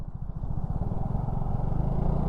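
Vespa GTS 310 scooter ridden on a bumpy road, its engine a loud, close, steady throbbing drone with a pulsing low rumble that builds slightly as it gathers speed.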